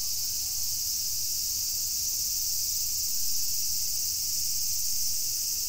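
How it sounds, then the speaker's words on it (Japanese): Dense, steady buzzing chorus of cicadas on a summer walk in Izumi, Sendai, Miyagi, a continuous high shrill drone that holds level throughout with no voices. "いっぱいいるけど、セミ、 セミ、セミ。"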